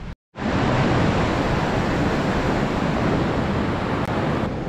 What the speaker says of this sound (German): Das sieht man auch hier am Wasser, ist sehr aufgewühlt.